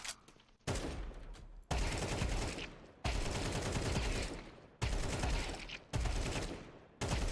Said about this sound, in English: starting to shoot the first few bullets of the mag, getting those nice and warm